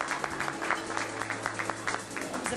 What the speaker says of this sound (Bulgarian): Така че, моля аплодисменти за две чаровни млади дами.